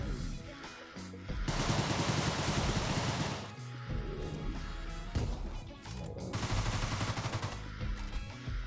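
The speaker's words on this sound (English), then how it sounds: "I might as well just use the Tommy gun on them." A Tommy gun fires in sustained bursts in the video game Deadbolt, rapid loud automatic rattles with a short gap between volleys and crashing impacts mixed in.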